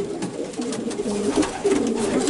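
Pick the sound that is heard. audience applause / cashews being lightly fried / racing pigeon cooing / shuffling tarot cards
racing pigeon cooing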